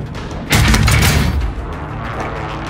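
A precision airstrike explosion in Call of Duty: Modern Warfare, a loud booming blast that bursts in suddenly and rumbles, then fades into a lower sustained roar.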